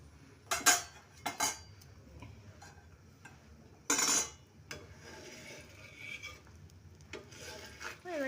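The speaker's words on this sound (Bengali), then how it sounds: "আমি ডিম আর লবণটাকে একসাথে করে মিশিয়ে নেব" Egg and salt being mixed together for egg rolls, with several sharp clinks and scrapes of utensil on dish in short bursts, close and fairly quiet, with softer rubbing between them.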